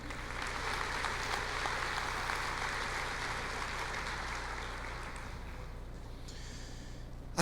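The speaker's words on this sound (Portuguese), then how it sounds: "Pode aplaudir." A church congregation applauds during a sermon: steady, dense clapping fills the room at an even level for several seconds before thinning slightly near the end.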